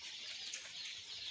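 Newly arrived Hubbard colour bird chicks on a poultry farm make a faint, continuous high chirping and cheeping from many birds at once, distant and with no voices.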